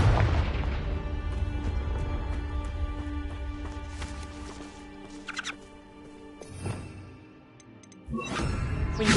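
Confringo fire spell explosion in Hogwarts Legacy, a loud deep boom at the start that rumbles and decays over several seconds, then smaller crackling pops and a second burst near the end.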